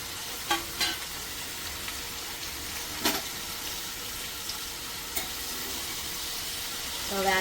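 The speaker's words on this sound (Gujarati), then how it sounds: "હવે આ બટર ને ઓઇલમાં આપણે આ બધું વેજીટેબલ કાપ્યું છે એ બધું નાખી લઈશું" Chopped vegetables frying in butter and oil, a steady sizzle with a few sharp clinks and scrapes of a utensil against the pan.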